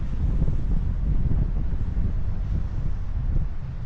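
Steady wind gusts across Teluk Ketapang beach in Terengganu, a continuous low buffeting roar against the microphone with no voices.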